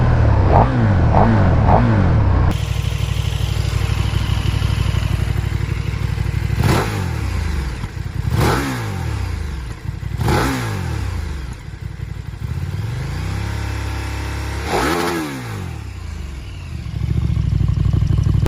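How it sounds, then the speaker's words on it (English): A stock KTM 1290 Super Duke R engine heard up close, starting with a few sharp revs, then settling into a loud rumbling idle punctuated by several quick throttle blips, with one more rev near the end. "this engine sounds so good too"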